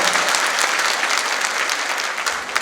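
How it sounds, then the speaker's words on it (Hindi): Loud, sustained applause from an audience at a political rally in India fills the clip, steady dense clapping with no speech over it, tapering slightly at the end. "जोरदार ताली से उनका हम सब अभिनंदन करेंगे"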